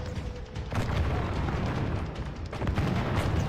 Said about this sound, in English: Some handgunners at the top of this hill who don't even have a good shot, but they're firing anyway.